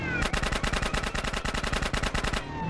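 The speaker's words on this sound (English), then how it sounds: "My bullets do nothing." Rapid automatic gunfire from the video game GTA San Andreas, a loud, steady burst of evenly spaced shots lasting over two seconds before cutting off.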